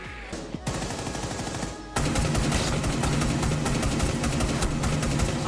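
Rapid automatic gunfire from a Rainbow Six Siege match played on Xbox Series, opening with a few scattered shots before a dense, continuous burst takes over from about two seconds on, loud and close.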